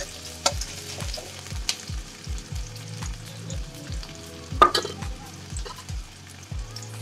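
Bitter gourd with onion sizzles steadily in a pan while a spatula stirs it, leaving a continuous close frying crackle punctuated by repeated scraping strokes at a fairly even rhythm, with no talking.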